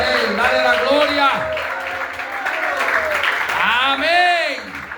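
A church congregation applauds during a Spanish-language worship service, clapping swelling and fading across the clip while a preacher's amplified voice rings over it.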